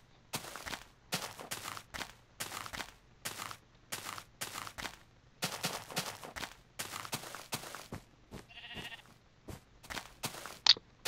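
Blocky sheep bleats from Minecraft gameplay, a steady run of short repeated calls with brief pauses between them, clear and close, with no talk over them.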